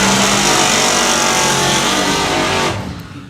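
A drag racing car roars down the strip at Santa Pod Raceway during the FIA European Finals, a very loud sustained engine blast that fills the clip before cutting off sharply near the end.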